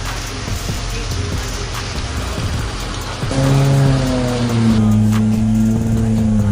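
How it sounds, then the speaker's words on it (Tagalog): Steady heavy rain pouring down at a racetrack with a dense hiss, joined midway by a low engine hum and droning tones. "Tigil muna kasi medyo malakas yung ulan."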